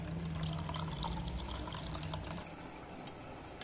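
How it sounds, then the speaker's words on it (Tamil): Cotton seed milk is squeezed and strained, liquid pouring and trickling steadily at close range with no voices. "இதை நல்லா அப்படி அலசி பிழிஞ்சு எடுக்கணும். இப்போ வடிகட்டிக்கலாம்."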